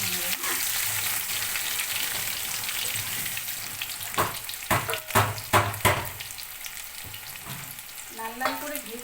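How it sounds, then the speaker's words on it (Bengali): Boiled potato pieces fry in oil until reddish, a steady close sizzle with a burst of scraping stirs in the middle and a few more near the end, no voices. "এবার এটাকে লাল লাল করে ভেজে নেব।"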